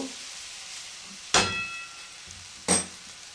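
Rice, prawn and egg being stir-fried in a pan, mostly quiet with two sharp bursts of sizzling and metallic clatter as ingredients are tossed and mixed, close by.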